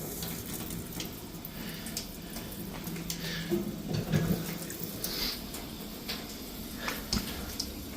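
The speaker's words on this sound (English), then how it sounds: "I'm gonna go turn on the water inside and let it drain" Water runs steadily from a tap and gurgles down a drain in a shop building, a soft continuous splash with slight swells, no one speaking.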